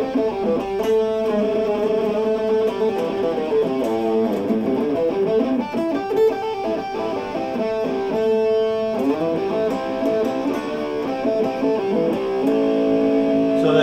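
Distorted electric guitar with a ceramic magnet pickup, through a distortion pedal, playing a continuous melodic line, thick and saturated, steady in loudness with no talking.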